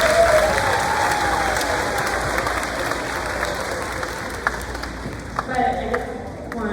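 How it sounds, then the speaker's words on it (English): Sustained applause from a crowd honoring seventh-grade students at a middle school awards ceremony, steady and fairly loud throughout, with voices murmuring underneath. "round of applause for all of you"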